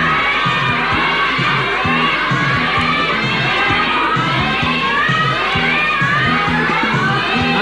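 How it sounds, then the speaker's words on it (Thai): A large studio audience at a 1980s Thai television game show cheers and shouts continuously, with excited children's voices prominent and a steady rhythmic clapping or chanting beat underneath, loud and sustained throughout. "ตอนเชียร์ดูกันคึกคักมากเลย"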